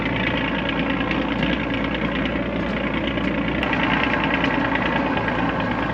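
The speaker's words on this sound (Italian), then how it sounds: "Motori accesi" Steady engine drone of vehicles carrying riders over rough terrain toward Cabo Polonio, Uruguay, a continuous loud rumble with knocking vibration and no gaps.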